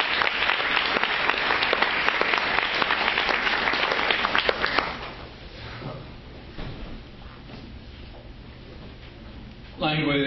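An audience claps in loud, dense applause to welcome a poet at a reading. The applause fades after about five seconds to scattered claps and room noise, and a voice starts speaking at the end.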